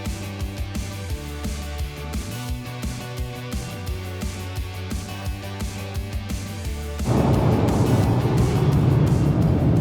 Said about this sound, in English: So here we are in the car.